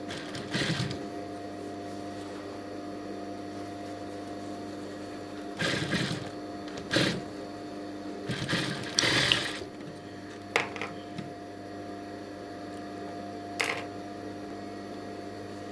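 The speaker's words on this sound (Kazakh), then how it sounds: "Сөйтіп, оның үстінен тігіп өтуіміз керек." A sewing machine stitches over felt and a folded fabric edge for a costume flower, with several short bursts of running stitching separated by pauses, near and fairly clear against a steady background hum.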